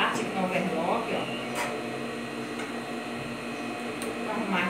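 Overlock sewing machine running, a steady mechanical whir under a voice speaking, with brief clicks and louder bursts as the fabric feeds through.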